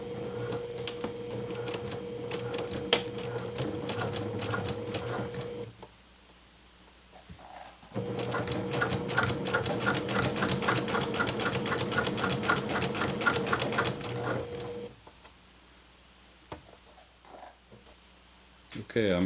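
A sewing machine stitching piping onto a throw pillow with a long stitch length runs in two loud, steady bursts of rapid needle chatter, separated by a short pause and ending with a brief stop, with no talk.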